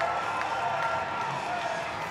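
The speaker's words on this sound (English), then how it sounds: "Listen to this crowd." Dense, sustained crowd roar fills a boxing venue as a hometown fighter stands over his beaten opponent, a steady wash of cheering and shouting with scattered whoops, loud and continuous throughout.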